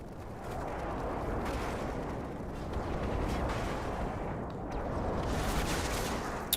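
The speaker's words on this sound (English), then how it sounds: "Enemy airstrike approaching." An airstrike in Call of Duty multiplayer: heavy rolling blasts and crackling gunfire rumble on and off through a loud, chaotic battle, ending in one sharp crack, with no talking.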